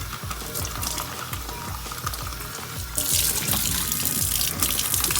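Tap water running in a kitchen sink for a quick rinse, a steady splashing stream that grows louder and brighter halfway through, close and alone with no talk.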